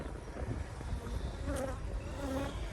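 Honey bees buzz steadily around open hive frames while 5-frame splits are moved into 10-frame boxes, a dense, continuous close-up drone with no talking.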